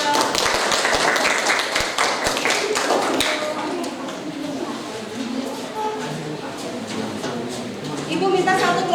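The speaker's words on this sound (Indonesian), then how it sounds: "Kita kasih aplaus dulu untuk kelompok 2" A classroom gives a student group a round of clapping, brief scattered claps at the start fading under ongoing voices and classroom chatter.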